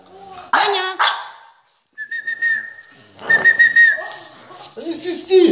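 A person whistles two sustained, steady tones at close range, mixed with a dog's short barks and yips and people talking nearby.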